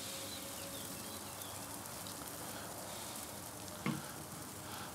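Butter melting and sizzling in a pan on a grill beside habanero-pineapple sauce and chicken wings, a steady broadband frying hiss throughout, with one brief louder clatter near the end.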